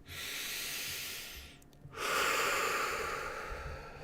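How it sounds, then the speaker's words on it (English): A slow, deep breath in and then out during a guided group meditation, soft and close, an airy inhale fading to a brief pause before a fuller hissing exhale, with no talk. "deep breath in, deep breath out"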